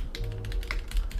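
Quick keystrokes on a Maxfree K3 mechanical keyboard with an attached 13-inch touchscreen, a short burst of close, crisp clicky taps with no voice.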